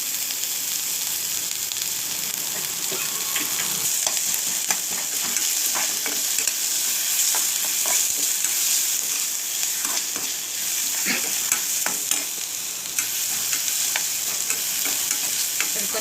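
Vegetables sauté in a pan with a steady, bright sizzle and intermittent stirring scrapes and taps. The sound is close and continuous for the whole stretch, with no talking.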